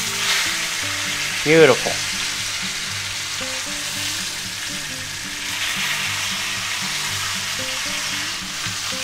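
Chuck roast steaks sear in a hot pan, a loud continuous sizzle holding steady, with a brief spoken remark near the start and no other talk.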